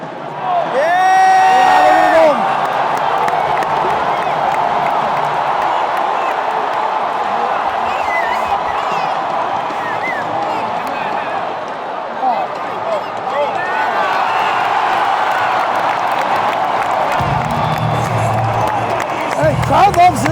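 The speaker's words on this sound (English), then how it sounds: "Hey, crowd loves it." A hockey arena crowd cheers and applauds in a dense, sustained roar of voices and clapping that swells at the start and again near the end.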